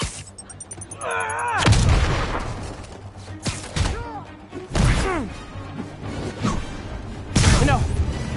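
Gunfire and impact crashes in the PS4 game Spider-Man, loud bursts and smashes recurring through the fight with game voices and sound effects underneath.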